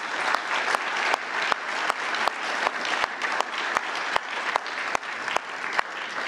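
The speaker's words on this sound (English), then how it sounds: "You can clap for that, folks." Audience clapping after a speech at a NATO summit: steady, dense applause from a large crowd, loud and continuous throughout with no voices over it.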